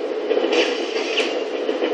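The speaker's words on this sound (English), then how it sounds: "Carefully watch that damn train." Train rumbling and scraping past on tracks in the Syphon Filter video game, a steady loud mechanical roar with no pauses.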